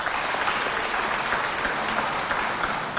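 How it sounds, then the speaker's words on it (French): Audience applause on a Chadian television talk show, dense and loud continuous clapping from a large crowd, sustained evenly throughout with no voices. "Je pense que ça doit s'applaudir."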